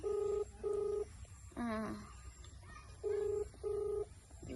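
Phone keypad tones as someone dials a doctor, several short beeps in two groups with a brief rising squeal between them, clear and close with no talk.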